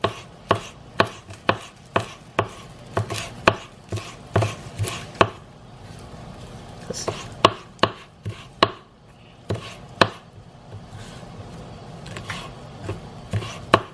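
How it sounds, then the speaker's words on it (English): A knife chops parsley rapidly on a cutting board in bursts of sharp, even taps, pausing briefly before resuming the quick rhythmic chopping. "You all know how much I hate chopping parsley."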